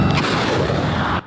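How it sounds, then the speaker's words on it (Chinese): A multiple rocket launcher fires live rounds during a US–Japan joint military exercise in Hokkaido, giving one loud, sustained roaring blast that cuts off abruptly after about a second. "多管火箭系统射出实弹，发出轰然巨响，并冒出白烟"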